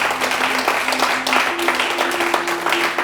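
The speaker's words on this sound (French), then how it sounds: "Qui peut acclamer le Seigneur de gloire?" A church congregation applauding the Lord, steady dense clapping throughout at a lively pace, with a faint voice underneath.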